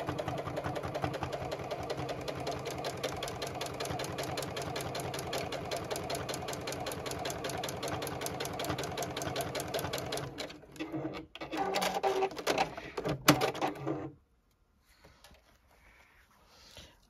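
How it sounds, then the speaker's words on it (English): A JUKI sewing machine stitches bucket hat lining and outer fabric together in a rapid, steady mechanical chatter at close range, then stops abruptly, leaving faint handling noises. "we will sew both the lining and that outer fabric because we are putting our brim"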